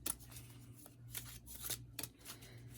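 A deck of romance angel oracle cards being shuffled close up, a quiet run of papery riffles and flicks in uneven bursts over a low background hum, with no speech.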